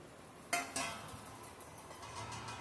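Homemade black sesame seeds drop into a kadai for roasting, making two quick sharp clinks close together, then a quiet rattling sizzle that trails off.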